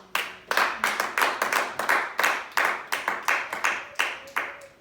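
A church congregation claps together in a steady, brisk rhythm of about four claps per second, loud and close, with faint voices mixed into the applause.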